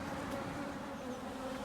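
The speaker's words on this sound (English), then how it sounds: "before I do that, I have to, of course, shake off the bees." Honey bees buzzing around an open beehive as frames are handled, a steady, dense hum that is fairly faint and continuous, with no voices.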